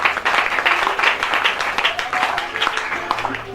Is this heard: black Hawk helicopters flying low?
no